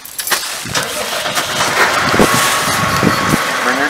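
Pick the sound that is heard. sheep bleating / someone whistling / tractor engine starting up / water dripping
tractor engine starting up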